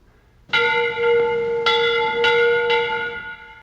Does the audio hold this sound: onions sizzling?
no